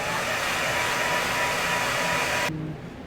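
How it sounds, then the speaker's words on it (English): A hair dryer blows steadily and loud up close to set paint on a pulse rifle prop, a continuous broadband whoosh that cuts off near the end, leaving a quieter low hum. "Set this with a hair dryer, speed up."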